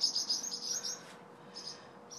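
Parent birds near a nest call frantically, with rapid, high chirps in quick bursts, pausing briefly before another burst, fairly close and moderately loud against quiet surroundings.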